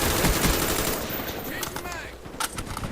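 Rapid automatic gunfire from a Call of Duty Black Ops deathmatch on the Hanoi map, loud and dense with overlapping bursts and scattered shots.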